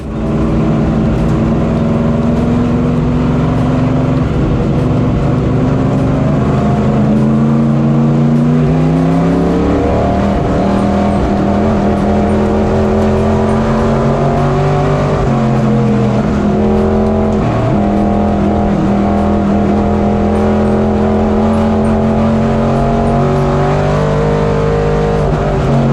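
Race cars circle a dirt track during a heat race, their engines roaring loud and close in a sustained, layered snarl with pitch rising and falling as drivers accelerate and pass, running unbroken for the whole stretch.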